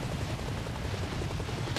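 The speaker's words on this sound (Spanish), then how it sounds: "Este pinche helicóptero, güey." A military helicopter in Arma Reforger on PS5 drones with a loud, constant low rotor rumble and broad noise that fills the whole stretch, with no speech over it.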